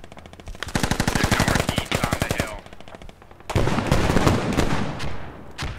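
A BTR armored vehicle in the game Squad fires at a house in two loud, sustained bursts of rapid automatic cannon fire. The shots come close together, with a brief gap between the bursts.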